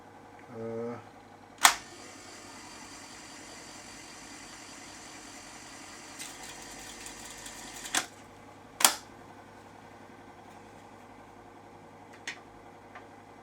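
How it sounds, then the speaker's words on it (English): A BSR Civic tape recorder winds tape off its reel, with a low steady motor hum under a few sharp mechanical clicks and clunks spaced apart in a quiet room. "Let's wind the tape off."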